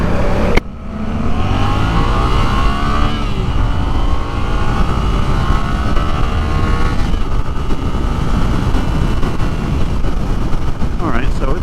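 A 2024 Suzuki GSX-8R with a 776cc engine pulls away from a start, its engine rising steadily in pitch through the revs, loud and close with wind rush, with a rider's voice faintly under it.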